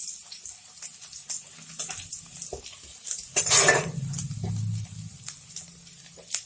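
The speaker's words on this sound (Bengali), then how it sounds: "এখন দিয়ে দিচ্ছি আদা কুচি আর রসুন কুচি, একটু ভালো করে ভেজে নেব" Chopped ginger and garlic with dried chillies are frying in a pan for chili chicken, a soft sizzle under clinks and scrapes of a utensil stirring, with one louder hissing burst midway.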